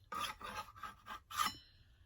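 A scraper drags old finish off a wooden footstool in five quick rasping strokes, the last the loudest, then a fading ring; close and alone with no talk.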